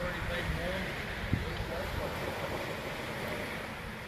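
Surf washes onto Nudie Beach on Fitzroy Island, Queensland, as a steady, close hiss of breaking waves mixed with gusty wind buffeting the microphone. A faint voice is heard in the background.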